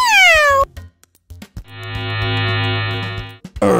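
A cartoon cat gives a loud, high meow that slides downward, then after a short gap a long, sustained synthetic tone with steady harmonics holds for nearly two seconds before another cry begins, set in an animated children's safety story.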